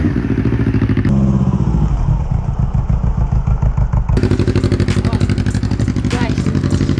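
A motorcycle rolls over a lollipop candy set on the ground, its engine running loud and close with a steady rumble, a sharp clatter near the start and a changing engine note as it passes; speech is heard in the background.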